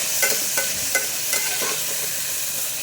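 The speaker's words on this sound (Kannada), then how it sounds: "ಈಗ ಪನ್ನೀರನ್ನು ಫ್ರೈ ಮಾಡಬೇಕು" Paneer cubes frying in a pan for paneer palav, with a steady sizzle and a few sharp scraping stirs of a spatula across the pan.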